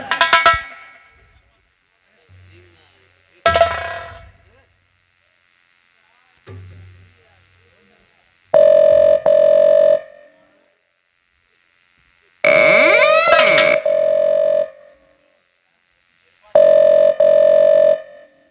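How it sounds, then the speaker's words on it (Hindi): Steady electronic telephone tone after a number is dialed in a Hindi nautanki folk-theatre stage play, sounding in three separate loud bursts of a couple of seconds each, with shorter clicks and thumps between them. "नंबर डायल कर"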